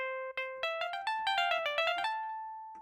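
Plucked electric guitar from a default Telecaster instrument in Logic Pro X plays a clean run of bright, ringing single notes in a quick rhythm, ending on a sustained tone and one short final pluck.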